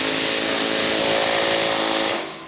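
A power tool whirs loud and steady up close while tightening the bolt and nut on the rubber cutting edge of a MUSKOX snowblower, then winds down at the end.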